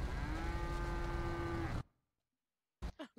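Cattle mooing in the video game GTA: one long, loud, close bellowing moo holding a steady droning pitch, cut off abruptly into about a second of silence before a few shorter, fainter bovine grunts follow.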